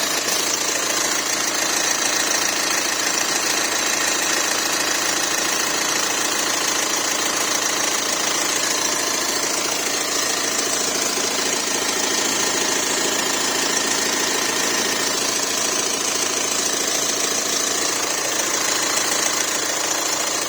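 A Volkswagen Amarok 2.0L TDI diesel engine idles after a thermostat housing repair, giving a steady, close, clattery hum with no variation and no voices.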